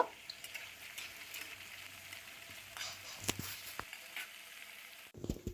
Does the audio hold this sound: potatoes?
yes